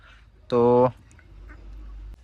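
A single loud duck quack rings out up close on a duck farm, followed by quiet rustling background.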